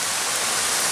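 Heavy rain pours down at Shadow Falls in a park as a dense, steady roar of falling water, loud and close throughout.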